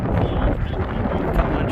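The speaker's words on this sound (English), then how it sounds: "Pretty windy." Strong wind buffeting the microphone out on the open Bonneville Salt Flats, a loud continuous rumbling roar with gusty fluctuations and no other sounds.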